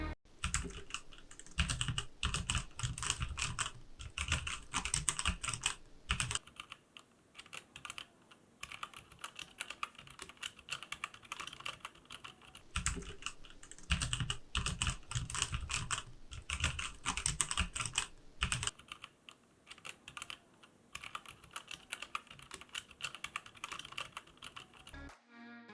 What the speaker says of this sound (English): the keyboard's back together and the keys have been put back on top, it's time for that all important before and after sound test